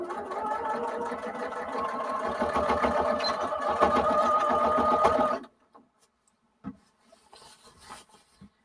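Sewing machine stitching fabric steadily at close range for about five seconds, then stopping, followed by a few faint handling clicks and rustles.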